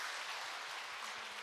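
A church congregation claps together during a year-end Sunday service, a steady dense patter of many hands that holds evenly through the whole short stretch with no voices over it.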